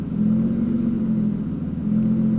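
A roughly 450-horsepower car engine revs in a deep, steady, throaty rumble, loud and close, holding fairly even for a couple of seconds with no voices.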